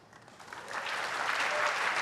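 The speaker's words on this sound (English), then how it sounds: "Yay, delayed applause." Audience applause at a PC gaming show, starting thin and scattered and swelling into steady clapping over about two seconds, with no speech over it.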